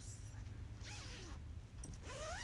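A zipper on a baby sleeper being zipped, two or three short rasping pulls close by, separated by brief pauses over a soft background hiss.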